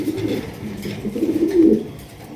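Sundori Gola pigeons coo in a low, throaty rolling murmur, several overlapping phrases close by with a swelling coo near the end and no talk.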